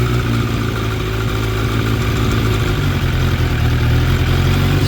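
A 2006 Suzuki GSX 600F Katana with a carburetor fault idles loudly up close, its engine note sitting high and steady with a slow, gradual easing rather than a quick drop.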